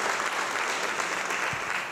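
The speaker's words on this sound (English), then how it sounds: "a big round of applause for all the staff and volunteers here who make us feel welcome every time we come" Brief burst of audience applause for staff and volunteers at a live-streamed public event, a dense, even clapping sound holding steady for the whole short stretch.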